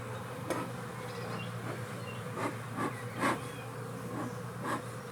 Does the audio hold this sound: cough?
no